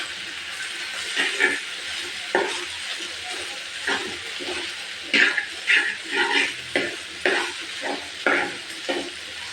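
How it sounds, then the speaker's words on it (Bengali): Chillies frying in a pan with cooked egg for noodles, stirred with a run of repeated scraping and sizzling bursts over a continuous hiss, close and fairly loud, no talking. "এই যে দিয়ে দেবো মরিচকে এখন একটু নাড়াচাড়া করে"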